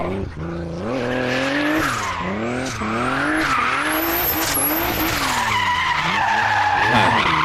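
A car with a six-cylinder turbo engine in the style of a Volkswagen VR6 drifts at practice, its engine revving up and down in loud swooping sweeps while the tires squeal and skid continuously up close.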